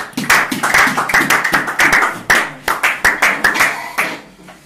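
A church congregation clapping in acclamation, many hands in a fast, loud, rhythmic burst of claps close in a reverberant hall.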